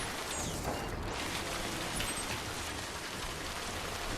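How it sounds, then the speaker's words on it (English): Timefall rain in the video game Death Stranding, a steady dense downpour hissing evenly throughout with no break. "Sometimes the Timefall just won't let up."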